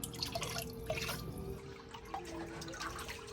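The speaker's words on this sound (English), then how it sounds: "And the vinegar goes in." Vinegar poured into a container for a loc detox wash, a steady close trickle of liquid with dripping splashes running throughout, no voices.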